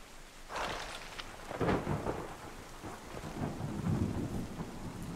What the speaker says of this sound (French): Oh, cette petite pluie qui nous ramène...